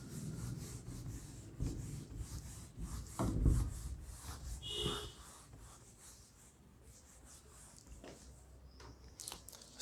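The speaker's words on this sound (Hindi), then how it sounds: "इसको मैं रब कर देता हूँ।" Writing is rubbed off a board during a soil mechanics class, irregular scrubbing and wiping strokes with a few knocks, close and moderately quiet.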